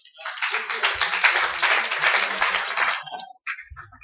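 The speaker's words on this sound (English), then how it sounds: "A round of applause, please." Brief audience applause at a United Football League press conference, about three seconds of steady, fairly close clapping from a small crowd that stops abruptly, followed by faint voices.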